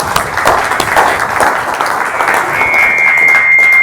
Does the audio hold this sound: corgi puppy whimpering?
no